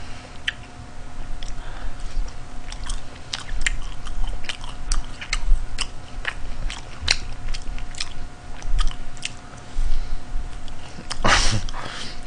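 Close, crisp chewing and biting of boneless BHC fried chicken, with irregular crunchy clicks throughout and a louder burst near the end; no talking.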